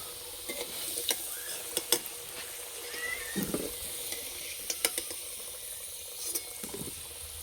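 Potatoes fry in a pan of oil for a cauliflower and potato curry, giving a steady low sizzle with intermittent sharp scraping clicks of stirring, fairly quiet and close, with no talking.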